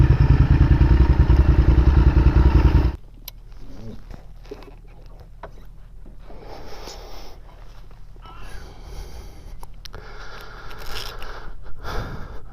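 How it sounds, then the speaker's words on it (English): A motorcycle engine runs loud and close for about three seconds, then cuts off, leaving quiet outdoor ambience on a seafront with light shuffling and clatter as the bike is parked. "Park the bike here."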